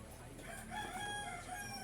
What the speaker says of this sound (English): Some chicken also.